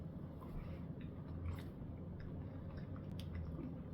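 Someone chews a piece of Mr. Goodbar milk chocolate with peanuts, producing steady close-up mastication with soft wet squishes and faint crunches throughout, with no talking.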